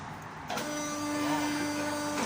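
A garage car lift lowering, with a steady electric motor hum and a high whine that holds on close to the listener after a brief muffled rustle.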